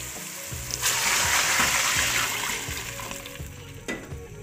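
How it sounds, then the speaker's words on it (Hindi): Hot water, about four glasses, is poured into a pot of sizzling tempering for matar pulao, a loud hissing rush of steam and bubbling that swells, then settles into lighter sputtering and small splashes. "तो यहाँ पे भी मैं इसके अंदर गर्म पानी डाल रही हूँ,"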